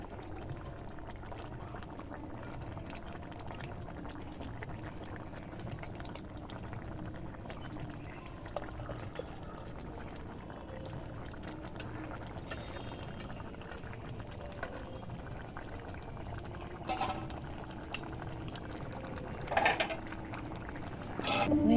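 Rohu fish curry with potato poured from a cooking pot in a village kitchen, a soft continuous liquid slosh and bubbling with a few clinks of pots near the end.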